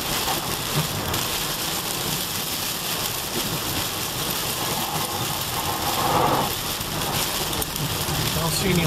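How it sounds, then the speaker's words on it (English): A heavy downpour roars steadily, dense rain hammering a moving car without letup amid lightning and water on the road, with a faint engine hum beneath. "mostly it's just a deluge."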